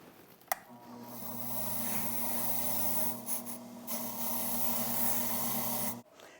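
A freshly cut Medeco key is cleaned up on a deburring wheel: a click, then a steady rasping, whirring grind held for about five seconds before stopping, close and moderately loud.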